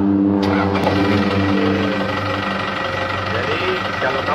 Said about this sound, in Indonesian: Oke, nyalakan mesinku.